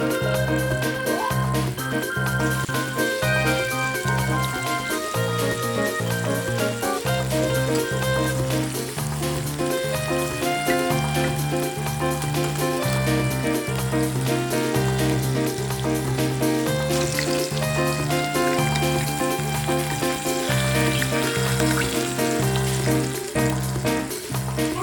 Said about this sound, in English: so we're going to put our pork chops in to brown